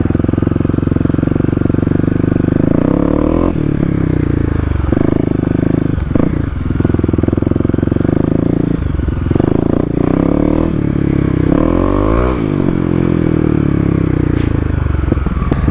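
A Kawasaki KLX250 dirt bike rides off-road through mud and gravel, its engine buzzing loudly and continuously with repeated throttle blips and revs, plus occasional clatter and scraping.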